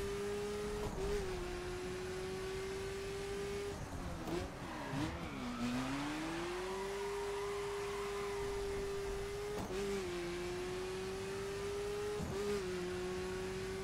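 A car engine in The Crew racing game drones steadily throughout, its pitch dipping and rising through gear changes and corners, with brief sharper bursts, close and continuous with no talk.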